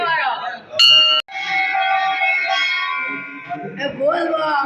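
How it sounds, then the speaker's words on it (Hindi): A bell rings with a sustained, resonant tone lasting a few seconds, preceded by a sharp buzzing burst, with voices around it. "घंटी बजाओ घंटी मारो"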